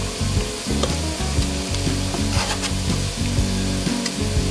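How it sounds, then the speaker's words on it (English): Vegetables and onions sauté in a pan for potato and broccoli soup, producing a continuous close sizzle with scraping stir strokes throughout. "So our vegetables are sauteing with our onions"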